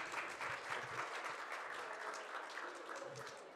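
An audience claps warmly for author Amitav Ghosh at a talk event, a dense, steady round of applause from many hands that holds evenly for several seconds and fades slightly at the end.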